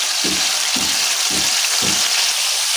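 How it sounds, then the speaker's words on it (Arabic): Meat seared in melted ghee sizzles in a large pan, a steady close hiss with four regular low thumps of stirring or tossing. "هننزل باللحمه بتاعتنا، اهي، نديها تشويحه بس كده."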